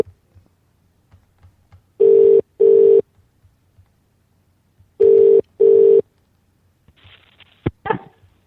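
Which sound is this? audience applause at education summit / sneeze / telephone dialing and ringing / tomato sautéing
telephone dialing and ringing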